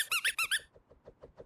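A new squeaky dog toy ball squeezed repeatedly: four loud, close, high-pitched squeaks in quick rhythm, then a run of fainter, softer squeaks fading out.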